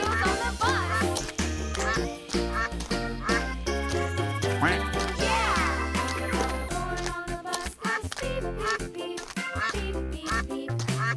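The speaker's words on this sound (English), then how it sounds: "Duck." Cartoonish duck quacks sound amid bouncy music in a children's animal-sounds bowling game, the quacks moderately loud over a continuous backing track.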